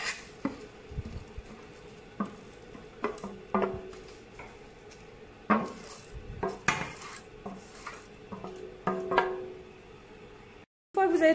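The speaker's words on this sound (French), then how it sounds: "je transvase mon riz dans une casserole" Steamed rice being transferred into a saucepan in a home kitchen, heard as quiet scraping, clinks of a utensil against metal and soft patters, scattered irregularly over low background hiss.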